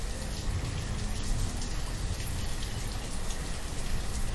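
Steady, dense rain falls in the city-building game Banished, a continuous even hiss of drops with no breaks and no voices.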